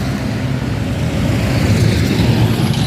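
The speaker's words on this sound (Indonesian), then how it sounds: "Rame teman-teman, truk berkonvoy nanjak" Heavy trucks climbing a hill in a convoy give a steady, loud low engine drone with traffic rumble throughout, no voices.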